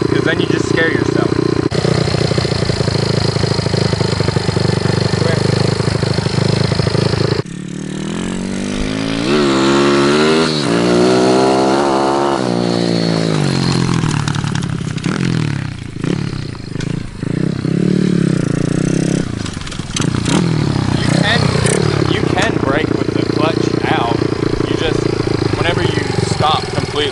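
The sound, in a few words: dirt bike engine running while learning to use the clutch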